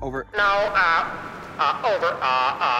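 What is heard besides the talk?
No everyday noise stands out behind the speech.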